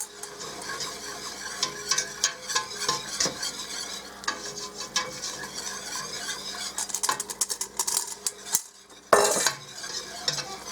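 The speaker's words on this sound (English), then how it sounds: "we're going to slowly put our flour in here and whisk it in." Flour whisked into softened onions in a soup pot for loaded baked potato soup, a busy rapid scraping and clicking of the whisk against metal over a low sizzle, close and continuous, ending in a sharp clatter.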